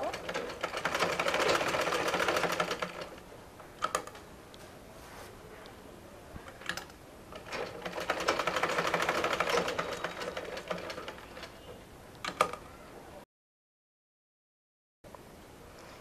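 A sewing machine stitches the corner of a pillow cover in two bursts of rapid, close, rattling needle strokes, separated by a quieter pause and faint clicks, then cuts off to silence.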